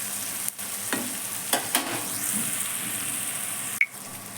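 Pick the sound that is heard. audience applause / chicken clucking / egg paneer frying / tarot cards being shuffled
egg paneer frying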